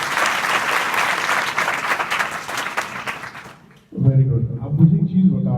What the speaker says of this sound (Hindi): तो एक जोरदार ताली बजा दो